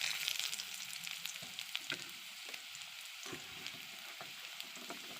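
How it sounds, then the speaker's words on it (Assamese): Sliced onions fry in hot oil in a pan, a continuous bright sizzle with soft crackles and a few scrapes of a ladle stirring, close and steady with no talking. "পিয়াজখিনি অকণমান ৰঙচুৱাকৈ ভাজি লৈছোঁ"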